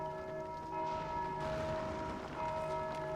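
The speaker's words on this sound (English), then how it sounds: "these hollows are just spawning to ring the bell" A bell rings out in the Dark Souls 2 video game, its long sustained tone hanging over the scene as fresh strikes come in twice, moderately loud with no talk.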